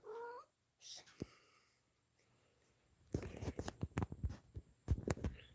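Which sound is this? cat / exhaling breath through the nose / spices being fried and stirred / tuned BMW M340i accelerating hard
cat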